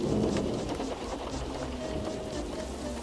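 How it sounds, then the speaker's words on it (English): A heavy storm roars steadily with dense rain and low rumbling gusts, a continuous loud wash of noise with no voices, in a video game. "Wind and rain buffeted Edward"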